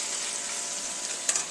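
Ground hamburger meat browns in a hot pan with a steady, close sizzle, and a couple of light utensil clinks land near the end. No one speaks.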